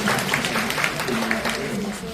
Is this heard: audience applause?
yes